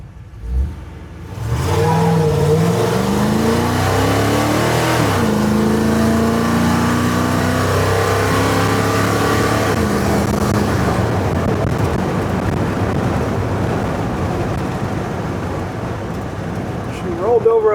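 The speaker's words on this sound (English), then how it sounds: "Let's just try and do a rolling start here, see what happens." A Small Block Chevy fitted with a 950 CFM carburetor pulls away from a rolling start, its loud, close engine note climbing steadily through the gears and then holding a sustained roar.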